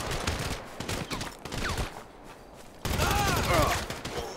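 Sniper rifle fire in GTA V gameplay, a burst of sharp game gunshots and action sounds, louder in the second half, with someone talking over parts of it.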